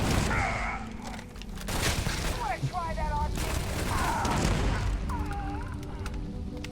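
Heavy gunfire with booming recoil and mechanical clanks in the space game Starfield, dense and loud throughout, with a person talking over the shots.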